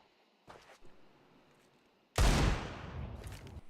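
A flashbang grenade in a video game, a faint, brief clatter first, then a sudden loud blast that decays into a hissing tail.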